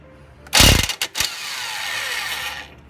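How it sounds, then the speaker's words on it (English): Long impact wrench hammering on a wheel bearing bolt of a Nissan Altima, a loud rattling burst of about half a second, then a short second hit and a longer whirring spin as the bolt runs out. "I'm going to put the socket onto the bolt, and since this is a long impact wrench"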